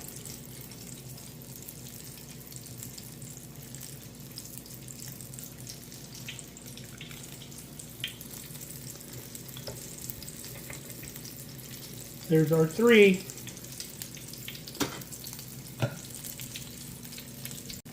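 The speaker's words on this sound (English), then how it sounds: "you see how the oil is kind of bubbling up through the middle?" Apple fritters fry in bubbling oil with a steady low crackle and hiss throughout, while a person speaks briefly over it.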